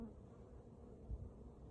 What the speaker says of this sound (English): Now there are more bees around that have turned up from elsewhere